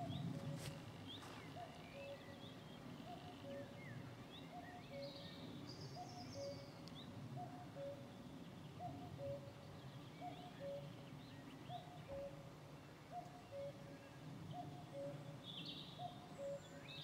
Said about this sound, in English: There's that cuckoo.